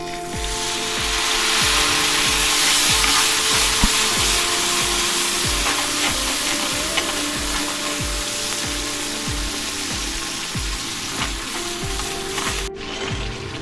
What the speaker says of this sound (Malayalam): നല്ലവണ്ണം മിക്സായി തിളച്ച് വന്നിട്ടുണ്ട്.